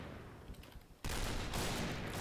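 Gunfire in the first-person shooter video game Point Blank: scattered quiet shots are followed by a sudden loud burst of sustained firing.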